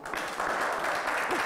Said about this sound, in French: Vous voulez qu'on applaudisse encore?